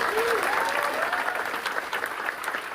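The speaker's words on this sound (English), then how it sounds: "The Wall Street Journal newsroom erupted in applause" Applause fills the Wall Street Journal newsroom as staff celebrate Evan Gershkovich's release in a historic prisoner swap, a steady wash of clapping held near the same level, with a faint voice underneath.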